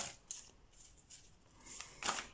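Tarot cards are shuffled by hand, producing quiet riffling and flicking bursts with soft slides between them and a louder riffle near the end.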